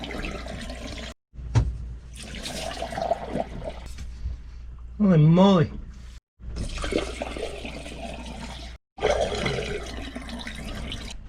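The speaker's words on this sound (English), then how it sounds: "You've been watching me fill the sea strainer in an effort to prime it, and I've put 6 pots of water in so far" Pots of fresh water pour into a boat's sea strainer in bursts of splashing and gushing, separated by short silent cuts, with a man briefly exclaiming between pours.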